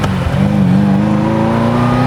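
Ferrari 348 Spider V8 engine with a gated manual gearbox revving up, a loud close continuous drone whose pitch climbs steadily after a brief dip, with no talking.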